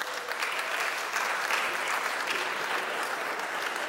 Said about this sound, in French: Il n'y a que les femmes qui applaudissent.